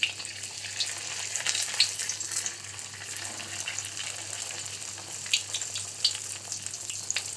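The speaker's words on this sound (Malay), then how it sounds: "Kita nak goreng popiah tadi yang kita dah" Hand-rolled popiah spring rolls fry in hot oil, a steady close sizzle with small crackling pops throughout and no voices.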